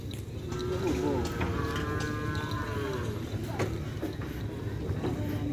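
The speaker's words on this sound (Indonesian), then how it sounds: "Ternyata ini sapi yang baru lagi guys." A cow lows in a pen, a drawn-out moo rising and bending over a few seconds, with steady barn background noise and people talking nearby.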